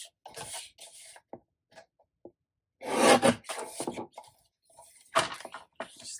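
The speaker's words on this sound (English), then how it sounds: "Just going to give it like 1/8 of an inch trim on each side." A paper trimmer slices small strips off the edges of a card panel, with scattered close scrapes and soft knocks, including a louder rasping cut midway and another near the end, separated by quiet gaps.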